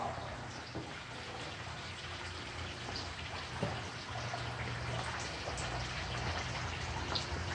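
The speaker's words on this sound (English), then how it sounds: "we got this beautiful pool with the fountains going" Fountains splash water into a pool at a Florida home, a soft steady spatter and trickle heard from a short distance, with no voices.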